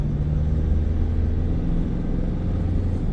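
Steady, droning diesel engine rumble inside the cabin of a new Mitsubishi Triton pickup, low and constant with no talking over it.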